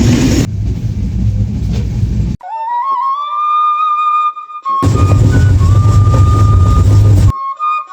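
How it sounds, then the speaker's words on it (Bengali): A train pulls into a station in Bangladesh, bound for Dhaka. A loud rumbling passage is followed by a rising horn-like tone, then more heavy rumbling with a sustained whistle. The sound is close and loud, with no talk. "তো আমাদের ট্রেন চলে আসলো মাত্রই, এখন দুটো ট্রেন"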